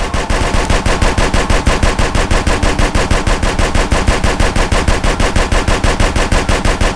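An automatic weapon fires without pause in GTA San Andreas, a loud, steady, evenly spaced rattle of shots that runs for the whole stretch with no voices.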